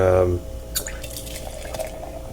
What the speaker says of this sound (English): I'm just gonna pour a quick glass for you